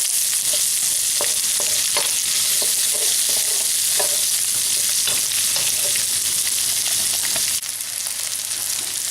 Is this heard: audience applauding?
no